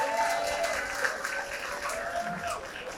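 Audience applause at the grand opening of a Yamaha training centre class held in a hotel hall, a steady moderate patter of clapping that continues for about three seconds with a faint murmur of voices beneath.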